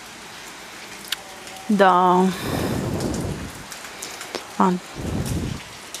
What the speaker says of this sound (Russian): Дождик идет прям сильный.